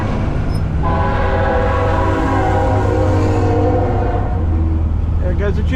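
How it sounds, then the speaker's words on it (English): A train passes close by with a loud, steady low rumble and rolling wheel noise, the drone filling the whole stretch without a break. "There goes the choo-choo."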